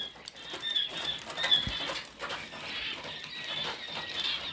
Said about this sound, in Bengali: আর এই যে আমার বড় কোয়েল পাখিগুলা খাইতেছে